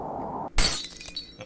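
Glass shattering in an indie horror game about paranormal activity, a single loud, close crash with a sharp burst of breaking and tinkling shards fading over about a second after a low ambient hum cuts out.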